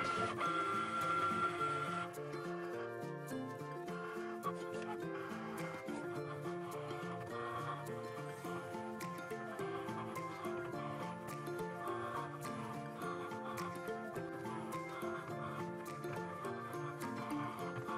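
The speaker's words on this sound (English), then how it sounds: "press it for the machine to start cutting the design" A Cricut Maker cutting a paper flower design whirs and chatters in rhythmic mechanical bursts as its carriage shuttles back and forth, steady and close, starting with a brief higher whine.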